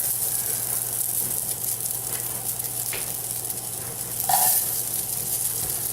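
Green beans sizzle in hot oil in a skillet over high heat, a steady close crackling hiss with a few brief clinks and stirring scrapes, including one louder burst near the end.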